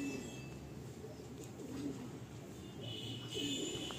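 Madrasi pigeons in a loft, speckled-eyed birds, keep up a low, steady cooing throughout, with a faint chirp now and then and no clear voices.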